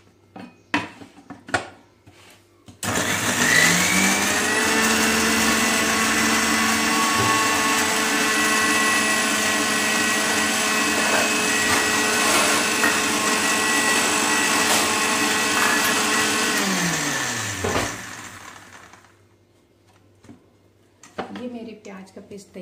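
An electric mixer grinder whirs loudly and steadily for about fifteen seconds, blending small onions and green chillies into paste, rising with a motor whine and winding down at the end, with brief handling clatter before and after.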